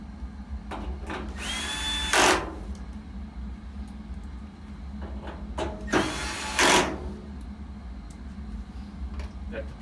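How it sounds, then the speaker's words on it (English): A drill gun driving screws into a Samsung dryer panel, giving two short whirring bursts of a couple of seconds each, close and fairly loud, against a low background hum with some handling noise between them. "make sure lower the torque on your drill gun"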